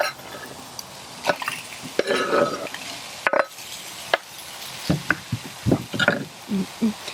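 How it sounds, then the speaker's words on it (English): Bitter melon and vegetables sizzle in a hot pan beneath intermittent scraping and stirring, with sharp clicks and knocks of a utensil against the pan. "Here it kind of sizzle."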